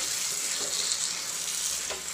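Fresh green peas fry with spices in a pan for matar paneer, a steady close sizzle with faint stirring scrapes and no talk.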